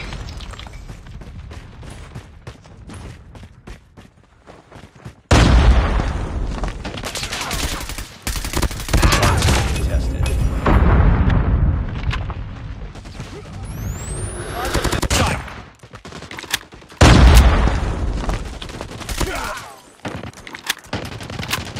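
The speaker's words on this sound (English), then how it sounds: "Grenade!" Call of Duty Mobile ranked match in a hardpoint mode with a loud grenade blast and bursts of close automatic gunfire, heavy and repeated, with brief quieter gaps and faint game voice callouts.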